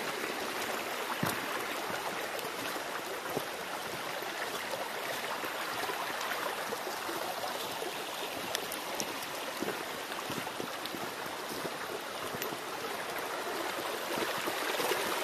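Water in a forest stream flows and babbles steadily throughout, a close, continuous rushing trickle with no voices over it.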